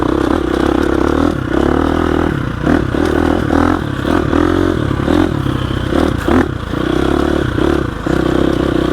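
A Gasgas EX 350F dirt bike, 2021 model, rides in second gear over loose rocks, its engine loud and close with a steady throttled drone, punctuated by clattering and scraping from the terrain.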